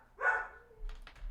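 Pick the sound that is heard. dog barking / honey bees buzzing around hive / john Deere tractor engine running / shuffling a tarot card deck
dog barking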